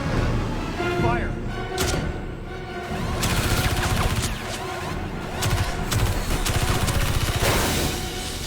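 A volley of rifle gunfire in a movie scene crackles in repeated bursts, loud and close, mixed with film sound and shouted voices.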